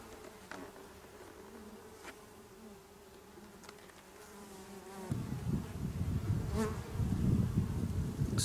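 Honeybee colony humming in a small nucleus hive, a steady close buzz that thickens and grows louder in the second half with individual bees passing near.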